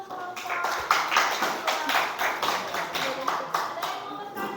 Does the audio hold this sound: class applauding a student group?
yes